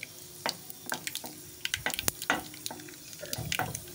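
Curry leaves crackle and sizzle in hot oil with cumin and mustard seeds, a close series of sharp pops and spits over a faint frying hiss, with light stirring.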